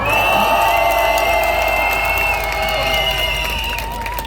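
Crowd applause and cheering at an outdoor candlelight protest rally near Hyehwa Station, welcoming a singer; a steady wash of clapping and voices over a continuous hum, easing slightly toward the end.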